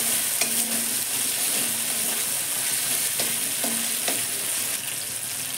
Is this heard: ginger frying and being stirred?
yes